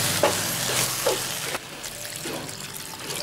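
Mint sizzles in a pan for chicken kuzhambu while a utensil stirs it, with a few scraping strokes and soft frying crackle; no talking.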